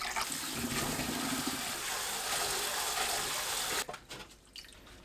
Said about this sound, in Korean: 20분 후 물에 조물조물 헹굽니다.